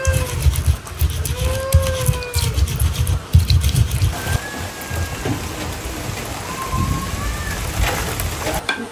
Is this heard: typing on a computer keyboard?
no